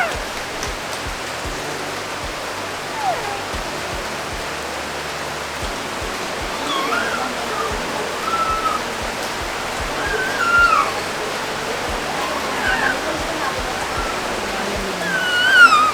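Steady heavy rain hisses continuously, a dense wash of noise like downpour on surfaces, with faint voices occasionally rising underneath.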